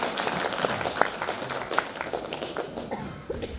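Applause at an International Women's Day award ceremony in Kara-Kulja greets a police lieutenant colonel, heard as a steady wash of clapping with a few sharper individual claps standing out, moderately loud throughout.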